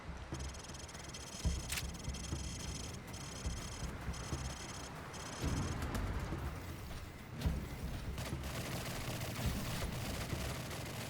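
Distant gunfire at a shooting range in the Call of Duty 4 video game, scattered faint shots and bursts crackling over a constant ambient hum.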